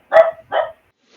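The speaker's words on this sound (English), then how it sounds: "Oh, that's our dog." A dog gives two quick, loud barks close by, with a brief faint sound trailing after and no talking.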